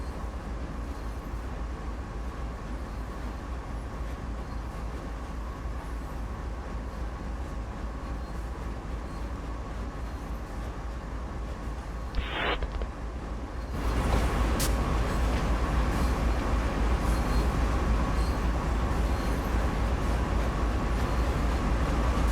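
A freight train rolls past a loading chute in Train Sim World 2, a steady rumbling drone that grows louder and fuller partway through, with a brief high squeal just before the swell.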